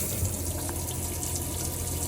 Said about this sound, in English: I'm going to turn it to the right and get some cold water coming through here